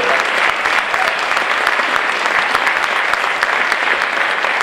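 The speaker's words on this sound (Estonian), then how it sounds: "Ja aplausi ootame otse loomulikult vastu." Audience applause at a film premiere gala, loud, dense and continuous clapping from a large crowd filling the whole span at an even level.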